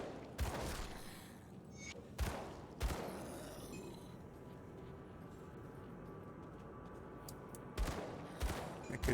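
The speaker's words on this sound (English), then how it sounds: "let's start shooting" Bursts of gunfire from the action RPG Grim Dawn in a burial cave, with sharp loud shots at the start and again near the end over a steady rumbling game backdrop.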